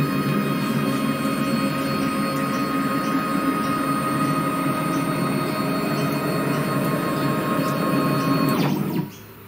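A homemade CNC router with an SMC controller runs a 3D test cut, producing a loud, sustained, steady electric whine with layered tonal hum that holds evenly for about nine seconds before cutting off abruptly.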